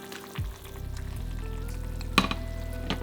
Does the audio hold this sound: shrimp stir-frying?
yes